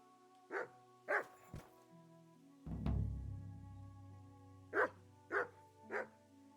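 A dog barks in the medieval video game Kingdom Come: Deliverance II, sharp barks in two groups with a sustained musical swell between them, moderately close and with no talking.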